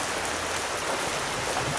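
Steady heavy rain pours down without letup during Typhoon Enteng, a dense close hiss of drops filling the whole short stretch.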